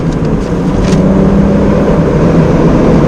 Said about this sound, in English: Now it's time to remind ourselves of that VR6. How? Some said it sounded like a Ferrari back in the 90s.